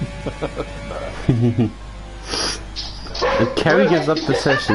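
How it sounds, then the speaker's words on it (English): Dog barking and yipping in a home, several short barks and whimpers mixed in with someone talking over them at close range. "Sorry, that was my dog."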